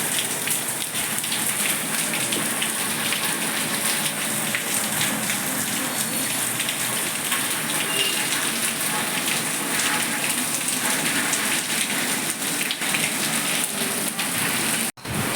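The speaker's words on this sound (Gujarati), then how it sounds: "જો બાર મસ્ત વરસાદ આવે છે ચાલો તમને બતાવું" Heavy rain falls in a dense, unbroken roar of drops, with no voices.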